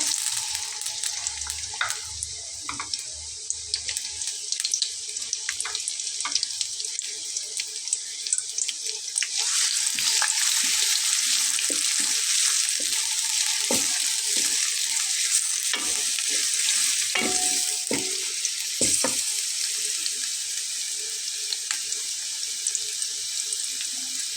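Onion frying in oil for a beef lentil bhuna makes a steady bright sizzle close by, with scattered soft clicks and stirring knocks, while a low rumble fades in and out underneath.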